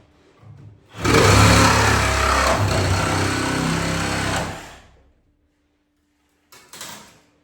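A Sawzall reciprocating saw cuts for about four seconds in one loud, rough, rattling burst, then stops; a short second buzz follows after a pause.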